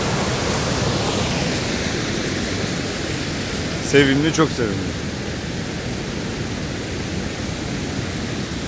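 Niagara Falls' American Falls roars as a steady, broad wash of rushing water heard from nearby, with a person briefly speaking over it midway.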